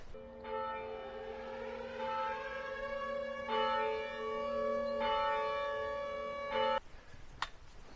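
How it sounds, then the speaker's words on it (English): Church bells of St. Peter's Church ring in a slow, resonant sequence of overlapping tolls with long sustained hum on a foggy, cold morning, then stop abruptly, leaving faint outdoor background noise. "Bells ringing like it was Silent Hill."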